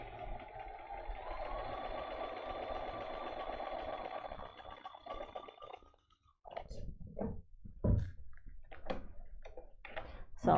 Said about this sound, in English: you're going to pull the pin out before you sew over it